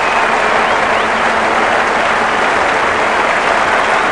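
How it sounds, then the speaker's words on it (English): A cricket crowd at Perth gives a steady, loud ovation for batsman Dean Jones in a 1986/87 Australia versus England match, dense applause and cheering with no breaks. "Great ovation from Dean Jones, from this crowd"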